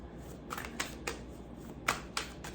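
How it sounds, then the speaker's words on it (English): Oracle cards being shuffled, a series of brief papery riffles and snaps at uneven intervals, fairly faint against a quiet room. "I'm gonna give it another shuffle."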